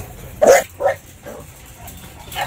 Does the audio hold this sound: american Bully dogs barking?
yes